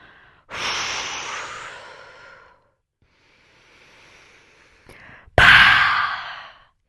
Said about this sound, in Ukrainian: Вдихаємо.